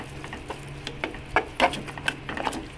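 A spoon stirs and mixes fried curry leaves and mustard seeds into a thick semolina idli batter, giving soft, irregular scraping and wet squelching taps close by, with no talking.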